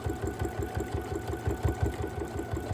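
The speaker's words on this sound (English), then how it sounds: "I'm sewing at 1/4 of an inch. Start with a back stitch." A sewing machine runs steadily along the edge of a quilt, sewing a quarter-inch seam. It makes a close, rhythmic mechanical chatter with even pulses throughout and no talking.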